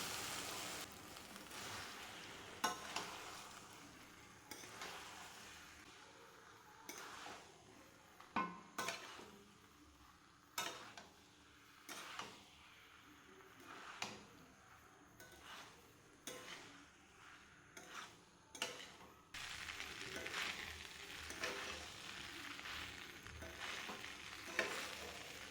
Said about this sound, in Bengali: ডিমের ঝুড়িটাও দিয়ে দিলাম, আর ভালো করে নাড়িয়ে চাড়িয়ে নিচ্ছি